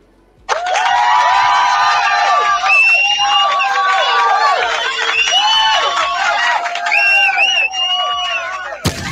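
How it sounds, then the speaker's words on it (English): A lively crowd cheers for a supporter with whoops, shouts and scattered hand claps. The sound stays loud and continuous for several seconds, with many rising and falling voices layered together. "Let's give him some hand claps."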